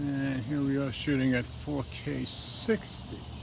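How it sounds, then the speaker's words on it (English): Cicadas chirp in a thin, steady high drone far in the background while someone talks close to the mic during an outdoor phone camera test. "you can hear the cicadas in the background"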